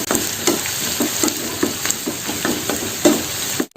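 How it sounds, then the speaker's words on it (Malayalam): Chopped onion sautéing in a pan with ginger, garlic and green chili, a steady hiss of frying broken by regular spoon scrapes and stirs about every third of a second, close and fairly loud, with no voices. "ഈ സവോള നന്നായിട്ടൊന്ന് വഴറ്റിയെടുക്കാം."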